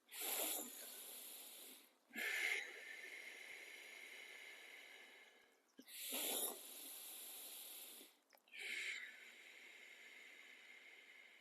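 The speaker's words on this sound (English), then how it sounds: "take 5 breaths, in through the nostrils, out through the mouth" Four slow breath cycles in a guided breathing exercise, each a soft sniff in through the nostrils followed by a longer airy exhale through the mouth, close and quiet, separated by brief pauses.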